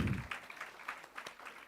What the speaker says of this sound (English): Give once again a big round of applause to Ram.